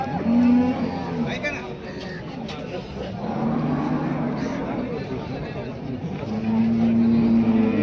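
Cow lowing several times at Chakan's Saturday cattle market, with drawn-out moos near the start and end, set against crowd noise and buyers and sellers talking throughout.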